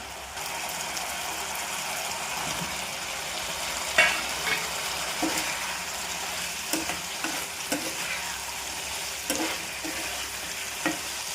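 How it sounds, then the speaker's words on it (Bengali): Banana, lentils and spices stirred and fried together in a pan, with a steady close sizzle and scattered scrapes and clacks of the spoon against the pan throughout, no talk. "কলা ডাল মশলা সব একসঙ্গে ভালো করে কষিয়ে নেব।"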